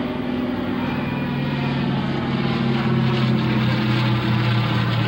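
A propeller-driven R4D cargo transport plane, a World War II era aircraft, drones past at a airshow weekend, its loud steady multi-engine propeller roar and pulsing hum filling the whole stretch.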